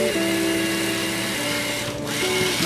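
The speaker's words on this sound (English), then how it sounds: "I'm using a battery-operated screwdriver with a special drill bit that is an 1/8 of an inch diameter." A battery-powered screwdriver fitted with a 1/8-inch drill bit whirs steadily while boring holes in a chair seat for removing pressed cane, a close, continuous motor hum with slight pitch shifts as it loads.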